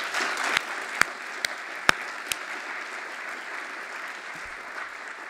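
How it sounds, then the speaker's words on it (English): Lecture audience applause, a steady dense wash of clapping from a large hall with a few sharper claps standing out nearby, holding evenly for several seconds before fading slightly. "everybody would applaud"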